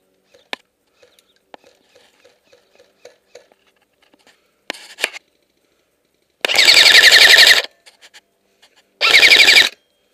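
Paintball or airsoft guns fire on an outdoor field in two loud, rapid full-auto bursts, after scattered soft clicks and pops, with shouting players nearby.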